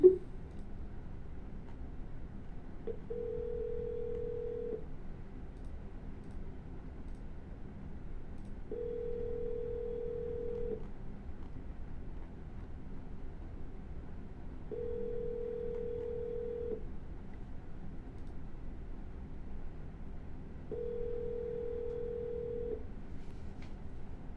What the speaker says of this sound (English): We're going to double dial.